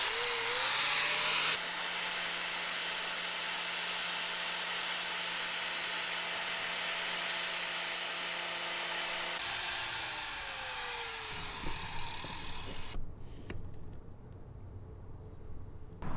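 A power tool cuts into the corner of a fiberglass high-top roof on a Volkswagen Vanagon Westfalia, giving a steady, loud high-pitched whine that runs for several seconds and then winds down into quieter scraping and handling noises.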